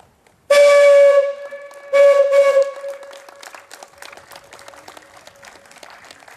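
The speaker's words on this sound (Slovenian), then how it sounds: "lokomotiva je po dolgem času prenovljena in zdaj z žvižgom tudi uradno postavljena na ogled" A renovated steam locomotive sounds its whistle at an unveiling ceremony in Dravograd: two loud, steady tonal blasts, the second shorter, followed by a crowd applauding and cheering.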